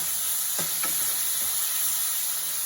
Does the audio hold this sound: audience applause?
no